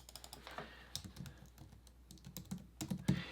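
A computer keyboard is tapped in a quiet, fairly quick run of light keystrokes with irregular spacing as a word is typed into a design layout, ending with a couple of firmer presses.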